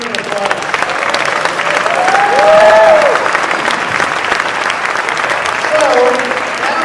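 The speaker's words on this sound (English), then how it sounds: "Once again, another round of applause." A round of applause from an audience after a speaker panel, broad steady clapping that swells in the middle, with faint voices and cheering tones rising through it.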